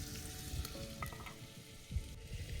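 Mutton simmering in a clay pot over a wood-fired stove, a soft bubbling sizzle with occasional clinks and scraping sounds, fairly quiet and close.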